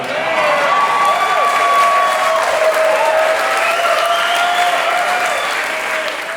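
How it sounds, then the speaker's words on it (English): A roomful of people cheering and applauding, loud and close, with dense clapping and whoops, some sustained high shouts rising over the steady applause for several seconds. "it made a room full of people cheer for me just now"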